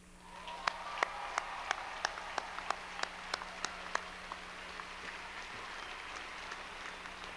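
Audience applause at a college graduation ceremony, a distant, moderately soft wash of clapping with a few sharp individual claps standing out in a rough rhythm over a steady low hum.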